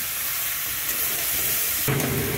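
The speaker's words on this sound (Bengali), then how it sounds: "দেখুন নাড়াচাড়া করতে করতে আলুটা ভেজেছি" Potatoes sizzle in a pan while being stirred, a steady bright frying hiss up close with a brief scrape-like shift near the end.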